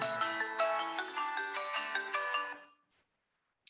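A mobile phone ringtone plays a bright, repeating melodic tune up close for over two seconds, then cuts off abruptly into silence as the call is answered.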